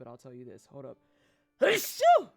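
A single sharp sneeze bursts out near the microphone right after someone speaks a few words, followed by a short voiced exhale.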